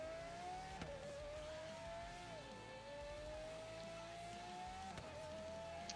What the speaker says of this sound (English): there's one of my friends driving a very slow car that I'm going to race just for fun